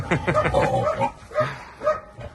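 Farmyard piglets feeding on crushed feed make a run of squealing grunts and oinks, dense at first, then thinning into scattered shorter grunts.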